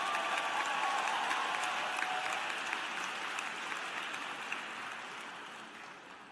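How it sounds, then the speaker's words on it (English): Graduates at a university commencement give themselves a sustained round of applause, a broad even patter of many hands heard from a distance that slowly fades. "Please give yourself a round of applause."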